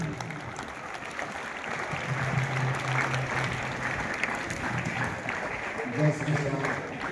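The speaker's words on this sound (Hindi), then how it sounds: "जोरदार तालियां" Applause from an audience at a school function, a continuous patter of clapping heard with a voice talking over it throughout.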